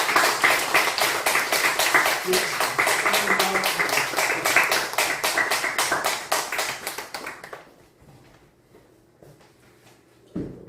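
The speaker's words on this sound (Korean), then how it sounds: "박수 부탁드립니다." A church congregation clapping together in a steady, even rhythm, loud and close for about seven seconds before fading into quiet room sound with a few scattered taps.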